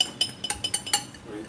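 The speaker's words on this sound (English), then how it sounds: "I want to kind of like whisk it into the wet ingredients" A whisk clinks against a bowl in quick, light strokes, mixing dry ingredients into wet ones for homemade omelettes. It sounds close and fairly soft, with about half a dozen sharp taps in a steady rhythm.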